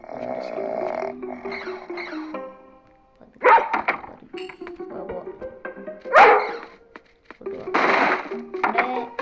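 A dog barks in bursts within the Robbery Bob video game, sharp yelps rising over a steady synthesized music background with short gaps between them.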